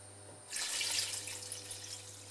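Water pours into a pot holding Brussels sprouts, beginning abruptly as a bright rushing splash that stays steady and close, under a low constant hum from the kitchen.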